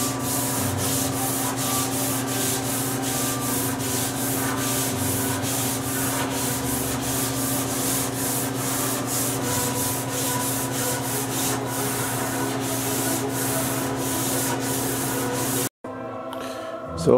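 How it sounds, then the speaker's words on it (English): Steady, continuous sanding across an antique curved blockfront dressing table on its second pass after drying, a close, even abrasive rasp with rhythmic strokes that stops abruptly near the end. "Sanding it a second time after it's dried."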